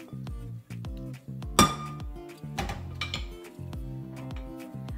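Hard clinks and clatter ring out as cooked potatoes go into a food processor bowl and a utensil knocks against it, with a loud bang near the middle and lighter tapping around it.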